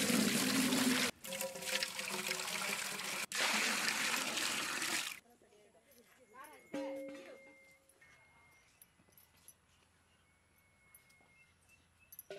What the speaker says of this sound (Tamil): முட்டை இட்லி வேக வைக்க தண்ணி